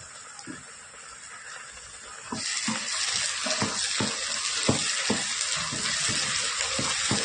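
Pureed tomato paste sautéing with onion, ginger and garlic in a pan for chicken curry, a soft hiss that jumps to a louder steady sizzle as the paste goes in, with occasional stirring scrapes.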